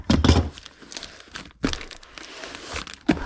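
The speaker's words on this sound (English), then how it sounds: "let's put a little more tape on it" Packing tape pulled and pressed onto a wonky cardboard shipping box, crackly crinkling and tearing sounds in close, irregular bursts over a few seconds.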